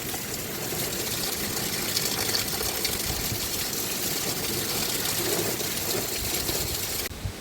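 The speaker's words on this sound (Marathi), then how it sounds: "पाऊस बघा किती जोरात आहे" Heavy rain driven by strong wind pours in a steady, loud, unbroken hiss with a low rumble underneath, and no one speaks.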